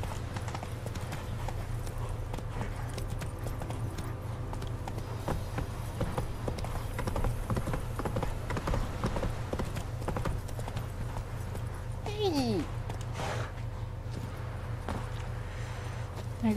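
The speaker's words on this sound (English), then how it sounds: "I gotta rescue all the horses." Horse hooves clip-clop steadily in The Witcher 3, a continuous rhythmic trot over a low droning background, with a brief whinny near the end.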